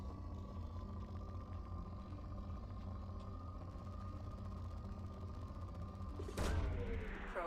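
A probe launching in the Mass Effect 2 video game: a steady low mechanical drone holds, then a sharp loud whoosh-burst near the end rises and trails off.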